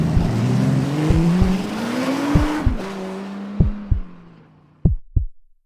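A police patrol car speeds away down a road, its engine rising in pitch and then fading into the distance, with several loud, sharp thuds and impacts punctuating the sound.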